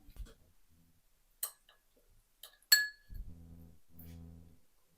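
A large drinking glass is handled in a quiet kitchen, giving a few sharp, faint clinks and taps spread across the moment, followed by a low muffled knock or thud.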